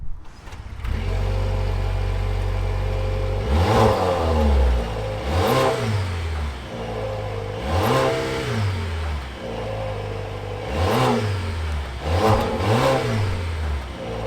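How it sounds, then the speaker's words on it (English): A 2022 Volvo XC60 T8 Polestar with a 2-liter turbo engine starts and idles, then revs sharply five or six times, each rev rising and falling back to a steady idle, loud and close. "that was of course the sound of the 2-liter turbo sold by Volvo for the XC60"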